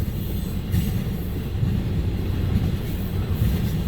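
A CN freight train, U754, led by a GE locomotive rolls past, a steady loud rumble of wheels on rail with faint rhythmic clatter, close and unbroken with no voices.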